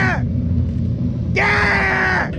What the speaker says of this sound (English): These growling sounds you hear are from 6 to 10 yards away